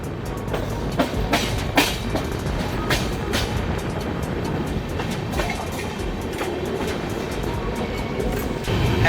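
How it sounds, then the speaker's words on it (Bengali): Azad Hind Express train from Howrah to Pune running on rails, a dense rumbling roar from inside the carriage with repeated clickety-clack wheel beats, loud and continuous. "এগেন ট্রেনটা চলা স্টার্ট হয়েছে"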